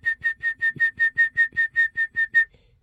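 A voice imitates a van wheel's whistling noise, heard at around 40 km/h after the wheels were removed and refitted, with about twelve short, evenly spaced high whistles in a steady rhythm, each clear and fairly loud.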